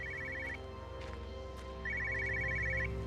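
An electronic telephone ring sounds in two bursts, a short one then a longer one, from a car in the game Everybody's Gone to the Rapture, over a steady low hum and ambient background.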